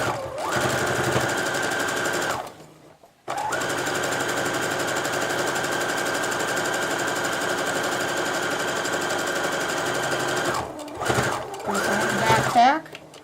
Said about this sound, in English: I am going to just simply sew a straight stitch across, back tacking along the edge just to make the hem at each end of the pillow cover